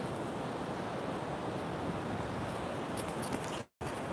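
Strong wind buffeting a clifftop above the sea, a continuous roar of gusts and microphone wind noise with a brief dropout near the end.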